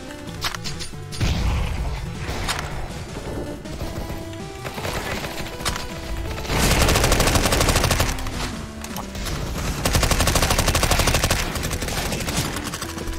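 MP5 submachine gun fire in Counter-Strike: Global Offensive, loud bursts of rapid automatic shots with mechanical clatter, sustained volleys recurring across the stretch and no talking.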